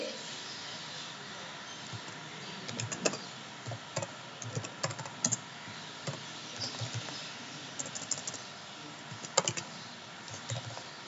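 Typing on a computer keyboard, entering a product name: irregular bursts of light keystrokes close by, spaced with short pauses, over quiet room tone.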